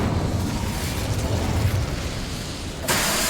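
A fire spell cast in Hogwarts Legacy gives a dense, steady roaring rush, fairly loud and continuous, shifting to a brighter burst near the end.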